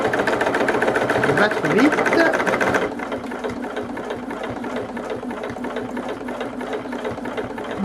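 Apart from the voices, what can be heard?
sewing machine stitching Japanese patchwork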